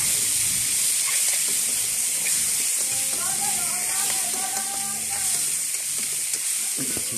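Onion and garlic sautéing in a pan for a home dinner, a continuous bright sizzle and hiss with steady frying crackle and faint stirring scrapes, close and even throughout.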